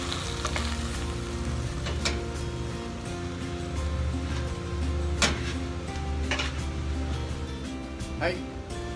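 Lettuce stir-fries with garlic in a pan as sesame oil goes in: a constant close sizzle with sharp scraping and tossing clatters from the pan, and a voice speaking over it.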